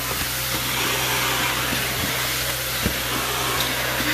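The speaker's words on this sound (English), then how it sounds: "drying this out with the wand and then put a blower on it to get the rest of it" A carpet-cleaning extraction wand sucks water off a tile floor with a loud, steady roaring hiss that runs unbroken throughout, close by, with a few faint knocks and scrapes underneath.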